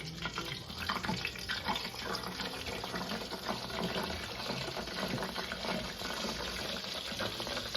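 Flour-coated chicken gizzards frying in hot grease, a steady, fairly quiet crackling hiss that holds evenly throughout with no talking.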